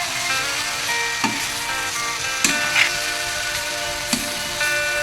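Jackfruit sautéing in spices in a pan sizzles steadily while a utensil stirs it, with three sharp scraping knocks spaced through the sizzle.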